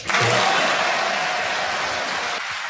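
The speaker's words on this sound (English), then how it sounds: "And it would be a generous round of applause." Snooker audience at the 2022 UK Championship applauding steadily for nearly three seconds, a dense, close wash of clapping from a large crowd that stays loud throughout, with a faint murmur underneath.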